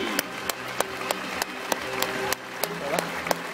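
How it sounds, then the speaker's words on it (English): Audience applause for trainers at a dolphin show at SeaWorld Gold Coast, with scattered claps ringing out at a fairly even pace over a busy background while a voice speaks. "put your hands together for the incredible and remarkable trainers that made this show possible"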